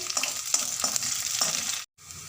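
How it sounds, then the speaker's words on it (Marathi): Onion sautéing in a frying pan for an egg Maggi masala dish, a steady broadband sizzle with light stirring scrapes, briefly cutting out near the end before resuming. "कांदा परतून घेते मी"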